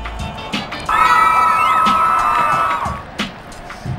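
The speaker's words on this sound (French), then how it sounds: "Remontée espagnole avec des cris de femmes dans cette magnifique tribune où ici l'ambiance est particulièrement chaleureuse avec Platidane." Stadium crowd at an international friendly football match between Spain and France, a loud sustained roar of cheering with high shouts and whistles rising from the stands, swelling for about two seconds before easing off.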